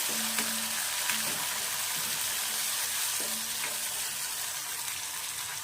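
Chopped tomato sautéing with onion in a pan makes a continuous hissing sizzle, with a few faint clinks from stirring mixed in, steady and close with no voices.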